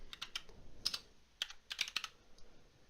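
Keys tapped on a computer keyboard while entering a Raspberry Pi configuration command, about a dozen quiet, irregular clicks in short bursts close to the mic, with no talking.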